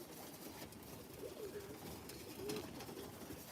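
Birmingham Roller pigeons coo softly and repeatedly outdoors, low murmuring calls over faint background ambience, with no talking.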